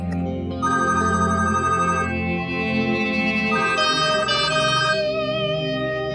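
An electronic telephone ringtone from an incoming call trills loud and close in repeating melodic bursts, playing alone without speech.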